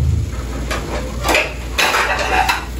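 Metal clanks and scrapes as a lid is set over a pot of suman, sticky rice cakes steaming in a kitchen, with a few bright clatters over a steady low boil rumble.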